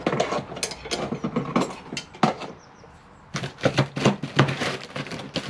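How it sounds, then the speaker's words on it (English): A root hook scraping and working through dry, tightly clumped soil around the roots of an Acer bonsai being repotted: close, gritty scratching and crunching in rapid bursts, with a brief quieter gap midway. "So I think we'll come in with the root hook."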